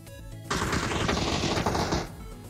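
Rapid gunfire rattles in PUBG, a dense burst of shots lasting about a second and a half that breaks out over quieter game ambience and then cuts off.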